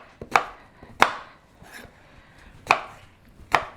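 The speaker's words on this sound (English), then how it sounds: "So we are going to dice it up." A knife chops eggplant into big chunks on a board, four sharp close thuds spaced unevenly with quiet gaps between, no voices.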